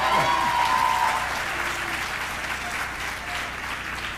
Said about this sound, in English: you can give another round of applause